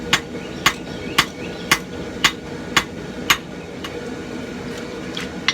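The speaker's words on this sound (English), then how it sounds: "just going to keep working that taper. Dressing up the thickness as I go" Hammer blows forging the taper of a blacksmith's knife ring out one by one at a steady pace, about seven sharp metallic strikes close by, then a few lighter taps over a low background hum.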